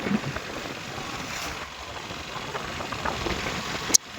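A motorcycle engine idles and rumbles steadily up close, ending with a brief sharp click.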